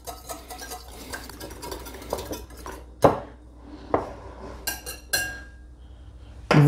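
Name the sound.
mixing egg whites with almond flour in a bowl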